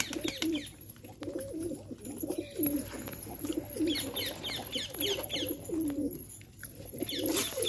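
Pigeons coo steadily through the whole stretch, a pair being shown for sale, with repeated low throaty rolling calls overlapping at close range and a faint steady hiss behind them.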